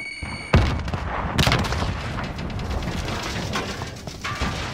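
A grenade blast and gunfire in a first-person shooter game: two sharp booms followed by dense, continuous rattling shots and debris, loud and close, with no talking.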